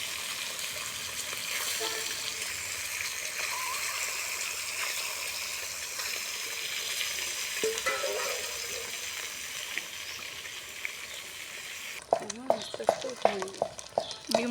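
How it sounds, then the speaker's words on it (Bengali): Marinated eggs frying in hot oil produce a loud, steady sizzle and bubbling hiss, close up, with stirring sounds, ending in a few seconds of rapid metallic scraping and clatter. "ডিমটা ম্যারিনেট করে রাখা হয়েছিল বন্ধুরা, সেগুলো এখন গরম তেলে ভাজা হবে।"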